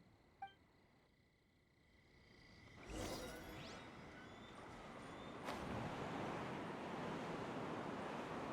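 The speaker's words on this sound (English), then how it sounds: "What a strong wind current." A strong wind current in Genshin Impact gives a steady, broad rush of airy noise. It swells around the midpoint and stays full and loud to the end, with a brief faint chime near the start and no speech.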